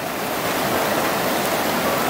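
Muddy, rain-swollen stream water rushing steadily along a river used for gold panning, a loud continuous broadband wash with no pauses or voices.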